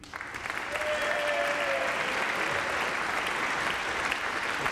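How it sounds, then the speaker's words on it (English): Sustained crowd applause with cheering at a University of Manchester graduation ceremony, loud and steady throughout after a brief rise at the start, with no speech over it. "That's a good cheer."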